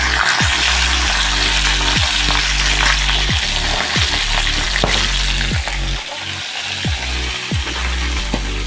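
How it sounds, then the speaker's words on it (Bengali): Pieces of hilsa fish fry in hot oil in a wok, giving a loud continuous sizzle with repeated sharp scraping knocks from a utensil turning the fish. "মাছগুলো এখন উল্টে পাল্টে ভেজে নেব"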